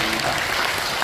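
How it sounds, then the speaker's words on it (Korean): An audience claps at a documentary film premiere held by a Korean church organization, a short, dense burst of steady applause. "박수 한번"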